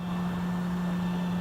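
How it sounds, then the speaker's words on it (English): Auxbeam LED fog lights on a 2015+ Subaru WRX give off a steady, faint electrical hum with a constant tone, heard alone at close range. "that's the hum of the headlights"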